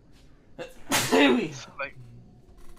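A single sharp sneeze bursts out close to the microphone, followed by a short laugh and casual speech.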